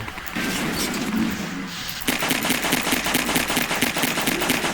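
Rapid pistol shots fire in the Half-Life 2 video game, a dense run of sharp cracks that grow louder and more regular after a short pause, with no talking.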